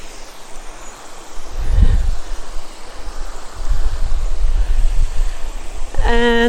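A fast-flowing creek rushes steadily, a loud broadband wash mixed with gusts of wind buffeting the microphone and a few low thumps, and a brief tonal sound at the very end.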